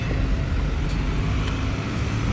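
A Toyota 2JZ engine on a dyno for a stock-block record attempt roars loudly and continuously, a dense steady drone close by with no talk.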